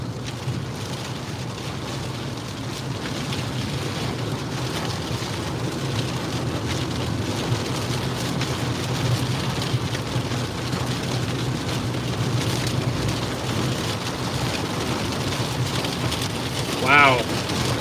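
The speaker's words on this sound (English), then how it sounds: "The wind is just ripping. Wind is ripping out of the south." Strong south wind roars steadily during a tornado storm chase in Kansas, a dense, constant rushing noise close to the microphone with a brief louder gust near the end.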